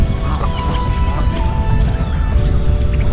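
Wild birds being fed in a park cluck and squawk in short bursts, scattered over a loud, rumbling outdoor background of wind and ambient noise.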